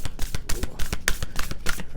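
A deck of tarot cards is shuffled by hand in a quiet room, giving a rapid series of soft, papery riffles and slaps in an uneven rhythm, close and clear with no talking.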